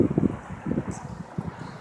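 Wind buffets the microphone of an LG G Stylo phone recording outdoors in windy conditions, a low rumbling roar that swells in three or four gusty bursts across the short stretch.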